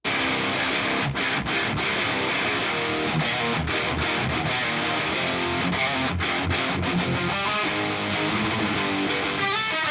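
Heavy metal rhythm guitars quad-tracked, humbucker and single-coil parts layered together, a dense distorted wall of palm-muted riffing with short choppy breaks, loud and continuous without drums.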